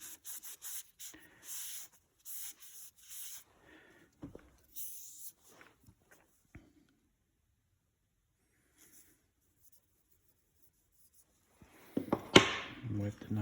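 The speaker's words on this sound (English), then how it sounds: "You can hear a little bit of grit in that, so we should wipe it off" A kitchen knife is sharpened in a series of quiet gritty rubbing strokes, followed by a long pause and then a brief scraping wipe close by.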